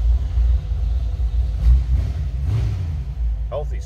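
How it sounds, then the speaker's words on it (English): Small block V8 in a 1941 Chevrolet AK pickup idles with a steady low rumble, heard close and alone for a few seconds. "Healthy sounding small block"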